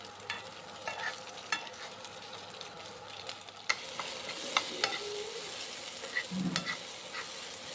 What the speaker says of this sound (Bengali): এখন চিলি পনিরটা তৈরি করে নিচ্ছি